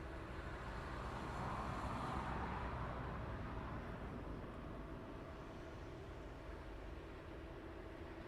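A Ryanair airliner taxis at East Midlands Airport at night, a steady broadband jet roar and rumble heard from a distance that slowly fades a little.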